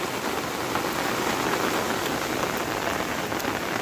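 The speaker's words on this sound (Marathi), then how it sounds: "पाहू शकता पावसाचा सुद्धा मस्त आनंद घेत आहोत" Steady rain falls on surfaces in a rural village setting, a dense continuous patter with scattered individual drop hits and no voices.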